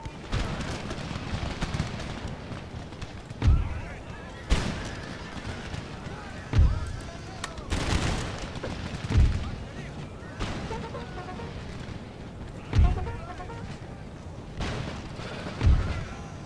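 Musket volleys and artillery fire from a Napoleonic-era battle in the video game Empire Total War, booming reports at intervals of a few seconds over a constant rumbling battlefield din.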